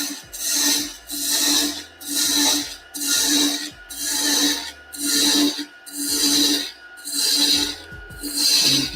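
A gouge takes repeated stair-step cuts on wood turning on a lathe while a ladle chuck is made, with eight rhythmic rasping scrapes about a second apart, each swelling and fading, loud and close.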